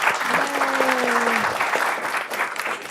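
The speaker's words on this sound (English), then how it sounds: "let's just end with a round of applause for our panelists today" An audience at a clean energy panel session applauds the panelists with loud, sustained clapping from a crowd, while a voice carries a tone briefly early on.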